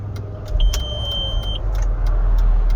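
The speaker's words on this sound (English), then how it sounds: "Now the car's running again." An Audi car engine restarts and runs, a low steady rumble with a brief electronic chime near the start, heard close up with no talking.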